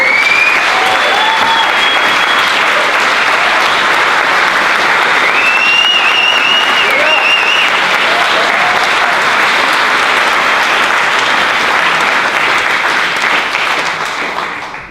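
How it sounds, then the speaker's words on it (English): Loud, sustained applause from a large film festival opening-night audience fills the whole stretch, with a few whistles rising over the clapping before it tapers off at the end. "Another round of applause for our filmmakers from all over the world."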